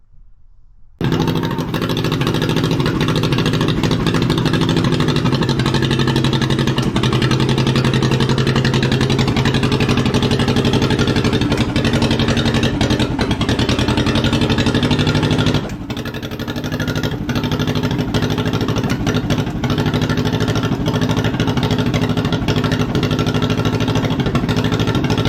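A 1953 John Deere 40 tractor engine that sat for years runs loud and steady, with a continuous low rumble throughout, a brief dip near the middle before it carries on.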